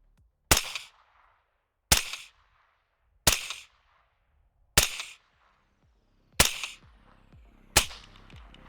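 Six sharp rifle shots suppressed by a Zerosound Titan Mini Brake II, fired one at a time at roughly even intervals, each a crisp crack with a short tail, no voices.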